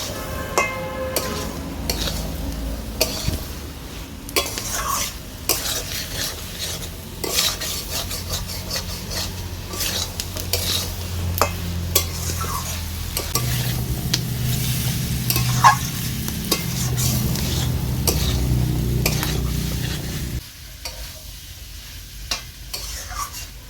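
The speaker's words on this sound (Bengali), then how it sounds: "এবার মশলার সাথে রাজমাটাকে আমি ভালো করে মিশিয়ে নেব।" Kidney beans being stirred and fried with spices in a pan, with steady sizzling and repeated scraping and clinking of a utensil against the pan; the frying thickens midway and cuts out near the end.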